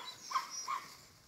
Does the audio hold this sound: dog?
yes